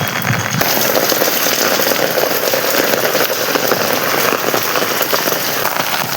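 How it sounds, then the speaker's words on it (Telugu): Rain falls steadily outside, a dense, even hiss of drops on surfaces, loud and unbroken, with no voices. "ఇక్కడ ఇప్పుడు వర్షం పడుతుంది, వ్యూ మస్తుంది."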